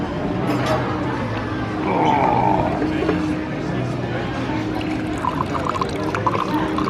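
Drink poured from a jug on a night out in Mallorca, a steady splashing pour under loud crowd babble and nearby talk.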